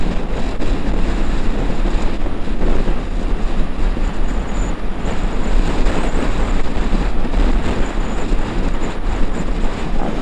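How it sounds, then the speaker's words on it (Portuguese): Strong wind roars steadily across the microphone of an XRE 300 Adventure motorcycle on a highway, mixed with engine and road rumble, loud and continuous with no pauses. "Eita, que ventania!"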